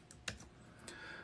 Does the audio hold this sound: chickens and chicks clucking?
no